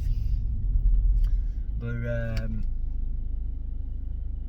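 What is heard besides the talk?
heavy road traffic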